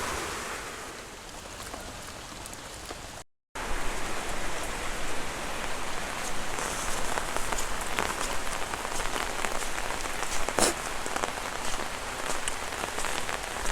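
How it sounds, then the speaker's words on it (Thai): Steady rain falls during a stormy day, a dense, close hiss of drops pattering on surfaces with a momentary dropout, then continuing unbroken with no voices. "นี่ครับ ตกบนมือเลยครับ ฝน"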